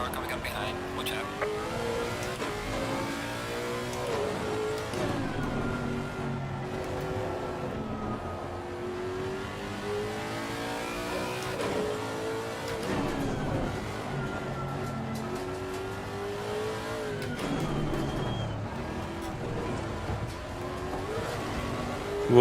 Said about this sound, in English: Faster car coming up behind.